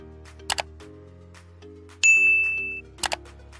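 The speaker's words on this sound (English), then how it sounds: "ring the notification bell so that you get notified every time I post" A bright notification bell dings once and rings out over soft background music, with short clicking sounds before and after it.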